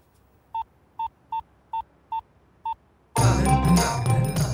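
Six short electronic keypad tones as a phone is dialed, beeping one after another at an uneven pace, then a burst of loud, dense noise takes over.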